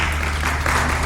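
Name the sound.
applause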